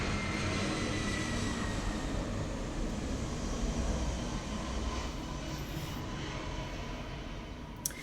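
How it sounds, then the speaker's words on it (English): An airplane flies overhead, making a steady, broad engine rumble that holds evenly throughout and fades only slightly toward the end, with no talking. "Here comes a plane."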